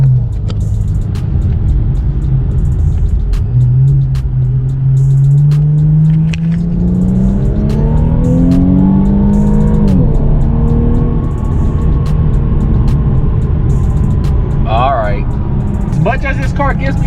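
An Infiniti Q50 car pulls hard from a stop into a far lane, its engine note climbing steadily in pitch through a long acceleration run, loud and close from inside the cabin, with a brief voice near the end.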